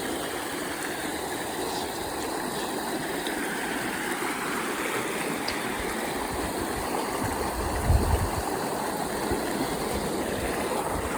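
Broad steady wash of a river flowing over rocks, continuous and fairly close, with a brief low thump near the end and no voices.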